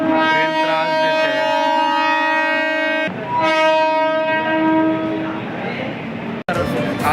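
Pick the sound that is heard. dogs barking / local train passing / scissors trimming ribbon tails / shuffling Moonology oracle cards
local train passing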